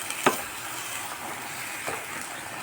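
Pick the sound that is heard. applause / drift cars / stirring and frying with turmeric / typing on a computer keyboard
stirring and frying with turmeric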